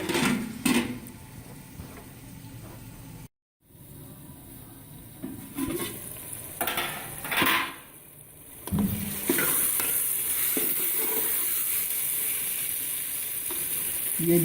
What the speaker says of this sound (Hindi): अब मैं इसको थोड़ा सा और भूनूंगी